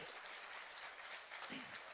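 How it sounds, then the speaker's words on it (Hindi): Steady applause from an audience at an appointment letter ceremony in Ranchi where newly appointed assistant teachers receive their letters, a dense, even wash of clapping throughout with a faint voice briefly rising near the end. "तालियां लगातार होती रहें"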